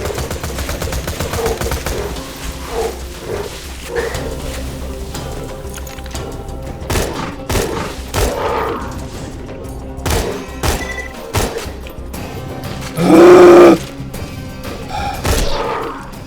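Repeated gunfire from a weapon in Borderlands 2, with sharp shots cracking in irregular bursts over a busy game soundscape and one brief louder tonal blast near the end.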